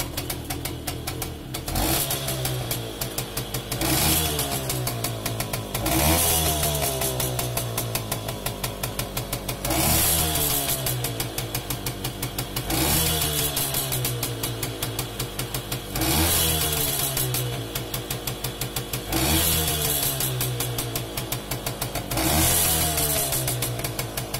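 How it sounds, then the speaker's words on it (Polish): A Romet 2375 moped's small two-stroke engine, freshly carburetor-adjusted, idles with a rapid rattling putter and is repeatedly blipped into sharp revs that climb and fall back, roughly every three seconds, close and loud with no talking. "I będę wykręcał i będę sprawdzał czułość reakcji na gaz."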